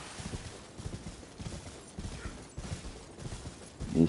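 Horse hooves clip-clop in a steady rhythm during mounted combat in the video game Elden Ring, fairly close and moderate in volume over a busy game soundscape, with no talk.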